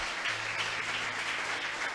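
A church congregation applauding together, a steady dense wash of clapping that stays even and fairly loud for the whole stretch, with no voices standing out.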